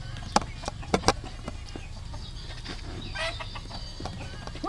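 A chicken clucking in short, faint bursts against a quiet background with a few sharp knocks, and a soft voice briefly heard.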